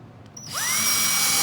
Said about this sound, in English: So just continue along, drilling your holes.